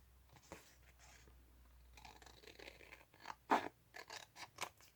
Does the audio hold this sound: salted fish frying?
no